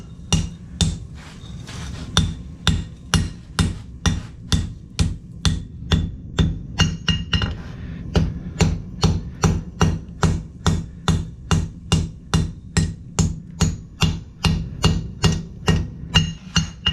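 A blacksmith hammers hot metal at a forge, striking in a steady, even rhythm of about two blows per second, loud and close, with ringing metallic clangs that carry on alone for the whole stretch.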